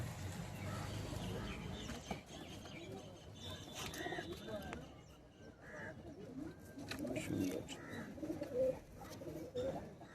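Pigeons coo softly in low, repeated throaty calls close by, with rustling and faint talk in the background.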